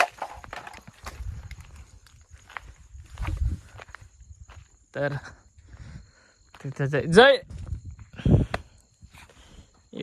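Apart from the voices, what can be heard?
cow walking, hoofsteps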